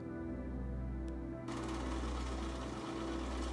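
A sewing machine stitching a dress facing and collar together around a neckline, a steady close mechanical whir that gets louder and brighter partway through and keeps running without pause, alone with no speech.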